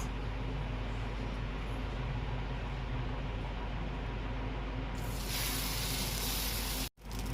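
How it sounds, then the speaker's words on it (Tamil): Thin dosa batter for an onion egg dosai hits a hot pan with a steady loud sizzle and hiss, brightening sharply partway through before a brief cut near the end. "அதுக்கப்புறம் தோசை நல்லா மெலிசாக ஊற்றுங்க ஃப்ரெண்ட்ஸ்"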